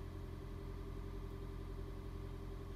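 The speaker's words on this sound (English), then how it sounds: "you could hear the engine kick back in there in order to replenish the charge in the high voltage battery" A Toyota Prius C hybrid's petrol engine cuts in to recharge the high-voltage battery, a steady low engine hum running evenly and faintly throughout with no talk.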